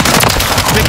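Dense gunfire in the Call of Duty: Modern Warfare III video game, a loud, continuous crackling barrage of rapid shots with no gaps, close and harsh.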